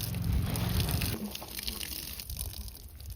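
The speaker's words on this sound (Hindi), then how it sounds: "सो गाइस अभी हम पानी लगा रहे हैं, फाइनली हमने लगा दिए प्लांट।" Water gushing and splashing onto newly planted marigold plants in a home garden, a steady close pour that thins out after the first second and continues more softly.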